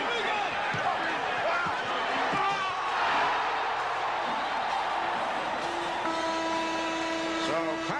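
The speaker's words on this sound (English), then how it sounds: "Just a moment ago, Patrick Ewing ignited the crowd with this emphatic" An arena crowd roars in a sustained, loud wave of cheering after Patrick Ewing's emphatic slam dunk at a 1996 basketball game, with squeaks and thumps from the court and a steady buzz running through it.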